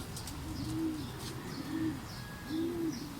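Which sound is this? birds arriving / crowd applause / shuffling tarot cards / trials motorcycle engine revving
birds arriving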